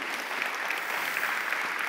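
Audience applause fills a conference hall during a talk on ArcGIS geospatial work, steady dense clapping throughout with no voices over it.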